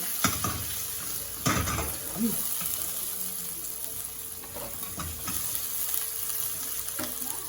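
Red onions sautéing in a pan for creamy chicken sopas, a steady sizzle and hiss running throughout with occasional scraping and clanks from stirring.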